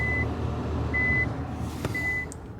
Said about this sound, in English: We hear the backup sound.